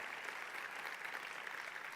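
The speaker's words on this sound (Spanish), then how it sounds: "si vas a aplaudir, hazlo con más ganas" A church congregation applauds during a sermon, a faint, continuous and uniform patter of many hands clapping with no voices standing out.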